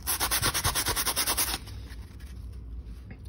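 Rhythmic back-and-forth scraping of a fiber-laser-engraved metal coin on sandpaper by hand, close and steady, then fading into quieter, rougher rubbing.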